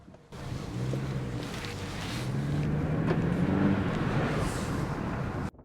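A car fitted with a 3.3-liter twin-turbo engine of 365 horsepower drives on a race track, with a steady, rising engine drone and heavy wind rush held for several seconds and no talking.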